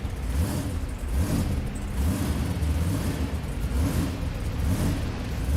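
A monster truck engine from the BeamNG.drive game, a steady close-up mid-pitched engine drone with small rises and falls in revs, continuous and alone.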